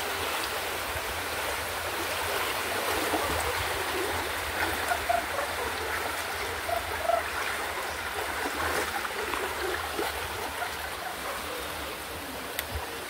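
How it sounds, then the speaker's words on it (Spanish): Floodwaters of the swollen Cravo Sur river pour past, a steady, broad rushing wash with no pauses, holding at an even moderate level throughout. "Esta es la creciente del río Cravo Sur."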